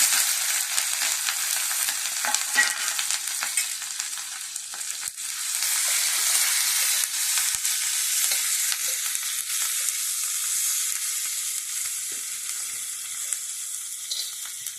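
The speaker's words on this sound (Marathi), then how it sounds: "इथे भाकरीचा तवा ऑलरेडी तापलेलाच होता त्याच्यात थोडंसं तेल घातलंय या मिरच्या आहेत" Green chillies frying in a little oil on a hot bhakri griddle, a continuous bright hiss and sizzle at close range, fairly even in level with no talking.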